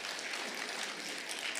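A church congregation applauds to welcome a visiting pastor, a short burst of even, continuous clapping that fills the room.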